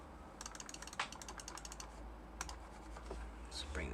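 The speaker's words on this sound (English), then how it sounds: "Quick typing test." Typing on a custom-built Singa Unikorn mechanical keyboard: rapid clacky keystrokes in quick bursts with brief pauses, close and fairly loud over a low steady hum.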